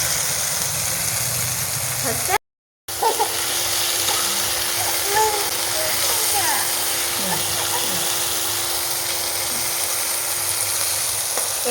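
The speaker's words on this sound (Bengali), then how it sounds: "এখানে কপিটা অর্ধেকটা ভাজা ভাজা হয়েছে" Cauliflower florets frying in oil for pakora, a steady bright sizzle that runs throughout at moderate loudness, broken briefly by a moment of silence early on, with someone speaking over it.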